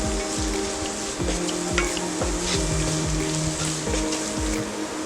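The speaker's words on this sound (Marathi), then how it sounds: "फुल गॅसवर आता कांदा परतून घेऊया" Onion with a pinch of salt sautéing in hot oil over a full flame, a bright continuous sizzle broken by regular scraping strokes of the spatula across the pan.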